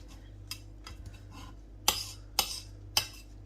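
Knife chopping fenugreek (methi) stalks on a board, with several light taps followed by three sharper, louder cuts spaced about half a second apart over a steady low hum.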